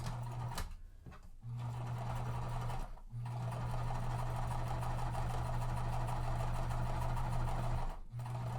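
A sewing machine backstitching quilt pieces hums in sustained runs, pausing briefly several times, close and steady with no voices.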